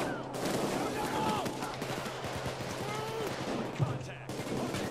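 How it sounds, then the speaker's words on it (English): Gunfire coming from several directions in the video game Payday 2, rapid overlapping shots and bursts crackling continuously, with voices talking over the shooting. "Getting fired at from too many fucking angles."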